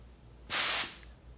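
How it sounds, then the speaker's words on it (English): Air venting from a California Air Tools compressor regulator: one short, loud hissing blast lasting about a third of a second, close by, then quiet. "Let's see what happens when we vent some."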